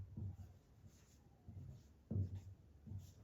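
A definition is written out by hand at close range, with quiet scratchy strokes coming in short separate bursts and no voice.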